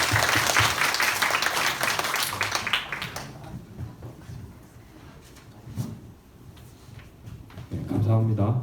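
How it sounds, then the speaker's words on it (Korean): A high school Sunday worship congregation in a church applauds together in a full burst for about three seconds, then the clapping gives way to a voice speaking. "다 같이 김정민 전도사님 향해서 박수 한번."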